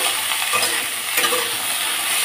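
Okra fries in oil over low heat, a dense, steady hiss and crackle filling the whole stretch, close and continuous without pause.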